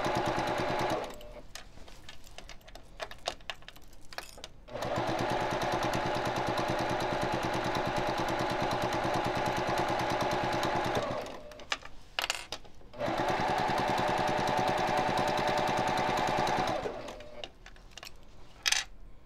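A sewing machine stitches a pillowcase seam in long bursts of fast, even mechanical whirring, broken by short pauses with quiet clicks and handling noise as the fabric is fed through to the end.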